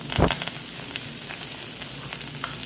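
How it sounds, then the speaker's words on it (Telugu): Chopped onion, green chilli and curry leaves hitting hot oil for veg Maggi noodles, a loud burst of sizzling at the start that settles into a steady close crackle. "ఆయిల్ హీట్ అయిన తర్వాత కట్ చేసి పెట్టుకున్న ఉల్లిపాయ పచ్చిమిరపకాయ కరివేపాకు వేస్తున్నానండి"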